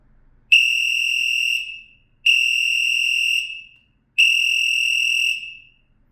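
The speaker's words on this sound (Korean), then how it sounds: "호루라기 소리가 매우 크니 주의해 주세요" Three loud, shrill electronic whistle blasts from a rechargeable LED signal baton (TG Electronics TG-E203C), each about a second long, separated by short silences.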